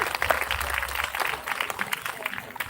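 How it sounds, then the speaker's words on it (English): Steady applause from an audience, dense clapping filling the whole stretch at a fairly loud level, with no pauses. "Can we have a loud round of applause for your performances?"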